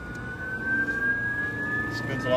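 A permanent magnet motor on an inverter prototype spins up, giving a steady whine that rises gently in pitch throughout, with a low hum beneath and a voice speaking faintly in the background.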